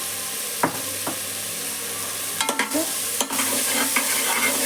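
Watermelon curry, freshly salted, sizzles gently in a pan while a spoon stirs it. A few distinct scrapes and taps of the spoon against the pan come through, close and alone without speech.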